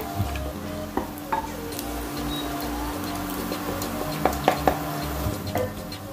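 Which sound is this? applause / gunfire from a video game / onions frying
onions frying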